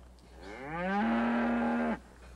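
A single cow lets out one clear moo, close and loud, rising in pitch and then holding steady for about a second before it cuts off, with no voices around it.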